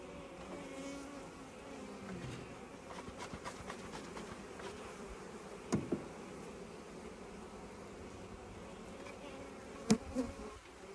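A dense, close buzzing drone of honey bees hangs over open beehive brood frames, steady throughout, with a couple of brief knocks or thuds near the middle and end and no talk.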